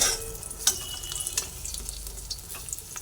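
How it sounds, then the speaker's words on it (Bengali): Gram flour (besan) mixture frying in hot oil, a steady crackling sizzle with scattered sharper pops, close and continuous with no talking. "ভেজে নিলাম সুন্দর করে তেলের মধ্যে দিয়ে"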